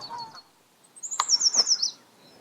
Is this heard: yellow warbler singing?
yes